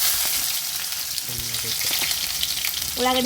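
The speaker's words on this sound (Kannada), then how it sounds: "ಎಣ್ಣೆ ಕಾದೈತಿ ಸಾಸ್ಮಿ ಹಾಕ್ತೇನೆ ಒಂದು ಉಳ್ಳಾಗಡ್ಡಿ ಹೆಚ್ಚಿಟ್ಕೊಂಡೀನಿ ಇದನ್ನ ಹಾಕ್ತೀನಿ" Chopped onion and mustard seeds hitting hot oil in a pan for a North Karnataka cluster bean stir-fry, a steady close sizzle and crackle with a few scraping stirs and a louder burst of frying near the end.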